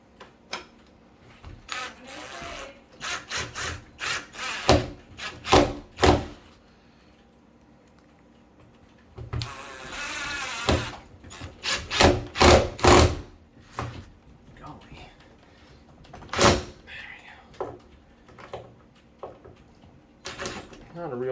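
Phillips head screws are backed out of door hinges by hand, with bursts of creaking, grinding and rubbing in short repeated turns between pauses, close by, while someone talks.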